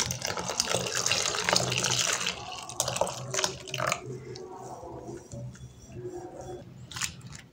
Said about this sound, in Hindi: तो डालते हैं पानी